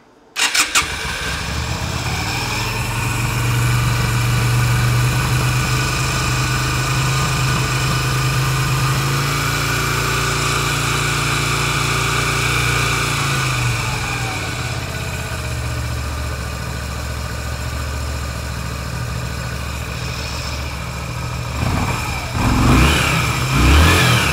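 A 1989 Yamaha Route 66 250cc motorcycle engine cranks and catches with the choke on, then settles into a steady, loud idle with a low rumble, rising briefly in a rev near the end.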